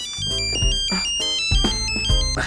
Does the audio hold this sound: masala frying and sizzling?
no